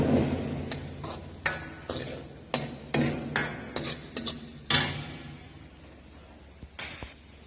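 Vinegar and soya sauce stirred together in a pan, a spoon scraping and clinking in about a dozen sharp, irregular strokes over a steady low hum, quieter strokes trailing off toward the end.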